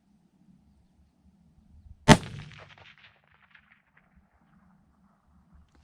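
A single sharp rifle shot from a Bergara B-14 HMR chambered in 300 PRC at an outdoor range, loud and sudden, ringing out briefly against a quiet background.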